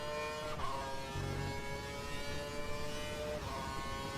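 A race car engine in a racing video game at Silverstone, with another car running just ahead, gives a steady droning whine whose pitch slides and shifts with gear changes. No one talks.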